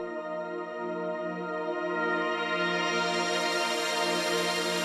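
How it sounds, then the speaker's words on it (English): Two FM8 synthesizer patches panned hard left and right, held as one sustained, buzzy chord that slowly brightens over nearly five seconds, steady and alone with no other sounds. "I have two FM8 sounds that are panned opposite of each other"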